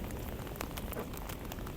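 Rain falls steadily at Capitol Hill in Washington DC, a dense even patter and hiss of drops on the ground nearby with no talk.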